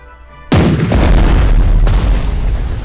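A warship's main guns firing in Strategic Mind, a single deep, loud boom that cuts in sharply and rolls into a long rumbling roar with a second blast layered on it, with no talking.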